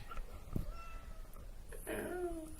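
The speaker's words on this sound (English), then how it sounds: "she's listening to the little one meowing" A Maine Coon kitten gives a few short meows, with a clearer drawn-out mew near the end, quiet against a faint indoor background.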